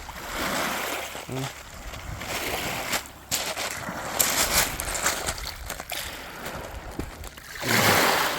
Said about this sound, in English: Waves are a lot calmer today.